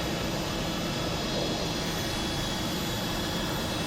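Loud, continuous roar of the Avro Vulcan XL426's jet engines during a high speed taxi run, a steady broadband rumble with a whining tone on top, unbroken for the whole stretch with no talking.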